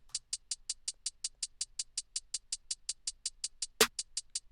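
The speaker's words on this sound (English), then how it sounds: "starting off with the hi-hats for the drums" A steady, evenly spaced hi-hat pattern ticks crisply along, with one louder accented hit near the end; no other instruments.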